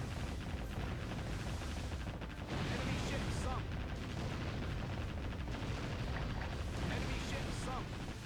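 Battleship guns and heavy-caliber naval cannons firing in the video game Warship Gunner 2, a dense continuous roar of booming shots and explosions that stays loud and steady throughout.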